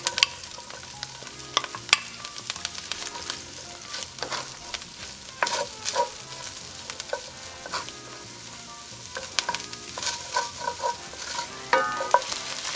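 Chicken and shrimp sizzle steadily in a pan for a creamy Cajun pasta. Stirring and scraping sounds break in at intervals, with no talking.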